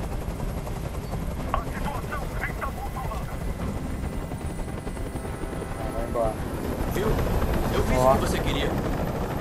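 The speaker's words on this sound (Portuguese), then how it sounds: "Ah, tira esse helicóptero daí, pelo amor de Deus." A helicopter hovers nearby in Detroit: Become Human, its rotor drone running low and constant under a tense spoken exchange and growing slightly louder toward the end.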